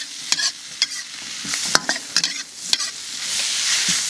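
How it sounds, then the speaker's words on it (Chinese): Cured pork with greens stir-fried in a wok, a steady close sizzle broken by repeated sharp scrapes and clacks of the spatula against the pan. "好，我们炒，"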